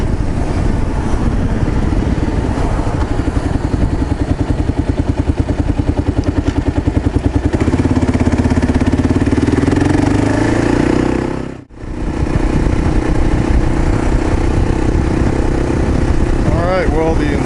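A motorcycle fitted with an upgraded MCP carburetor runs on steady and loud at close range, its engine note rising and falling slightly, with a brief sharp dropout partway through before the running sound returns.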